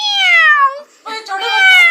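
A voice imitates a kitten, making a high, falling meow followed after a short gap by a second, slightly rougher mew, close and fairly loud.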